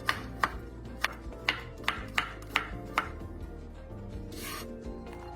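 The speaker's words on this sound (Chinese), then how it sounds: "40克蒜瓣，一样切细。" Knife chopping garlic cloves on a board, about nine sharp evenly spaced cuts in a steady rhythm, close and fairly quiet, ending in a brief scraping rub.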